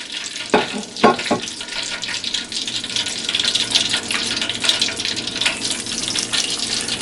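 Fish fries in hot oil, a steady crackling sizzle with a few sharper pops early on, close and continuous without talk.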